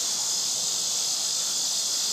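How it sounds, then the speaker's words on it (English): Cicadas drone in nearby woods, a constant high, shrill buzz that stays loud and unbroken for the whole moment. "there's a real cicada"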